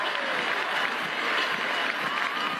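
Indoor crowd noise fills the Phil Sports Arena during a men's volleyball final between Indonesia and the Philippines, a steady, dense roar of cheering and clapping that holds for the whole stretch.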